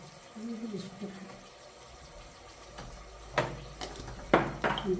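A little water is splashed into a pan of cooking food, making a few bright splashing and sizzling bursts among kitchen clatter, close by, with someone speaking nearby.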